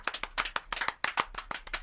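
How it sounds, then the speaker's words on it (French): Several pairs of hands clapping in short, sparse bursts during a French-language drama, a handful of sharp claps with brief gaps, fairly close and moderately loud. "Applaudissez pour elle."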